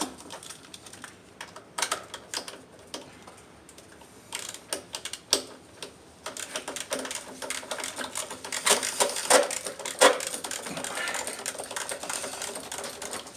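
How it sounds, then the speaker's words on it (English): A long ratchet clicking rapidly while spark plugs are removed from a 2010 Nissan Sentra, with bursts of close, sharp ticking that grow denser and louder toward the end. "got this long ratchet right here. This long ratchet right here is really"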